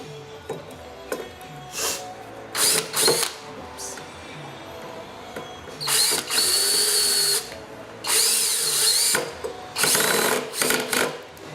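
A power drill whirs in several short bursts while driving small screws into a mounting bracket, with quiet handling noises in between.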